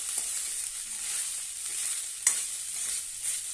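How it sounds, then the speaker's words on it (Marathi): Cooked rice being stir-fried with curry leaves in a pan, a steady close sizzle with soft scraping stirs and one sharper clink of the spatula midway. "भात मी शिजवून घेतलेला आहे आणि छानपैकी परतून घेऊया"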